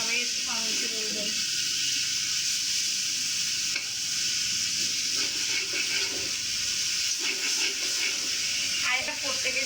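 Ash gourd fries in a pan with a steady, loud hiss, punctuated by scrapes and clatters as it is stirred, while a voice talks over the cooking.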